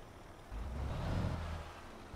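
A MAZ-6422 truck with a 400-horsepower Euro-1 engine starts up in Euro Truck Simulator 2, a low rumble swelling as it fires and settling into a steady idle.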